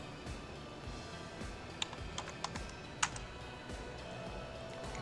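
Computer keyboard keys tapped while entering dimension values in AutoCAD 2023, a few quiet, scattered keystrokes over a steady low room hum with no talking.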